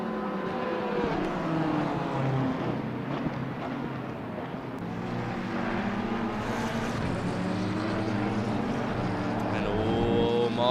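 Race cars circle the Zolder circuit in a racing video game, their engines droning in continuous overlapping revving tones with shifting pitch as they change gear, moderately loud and steady, with no talk over them.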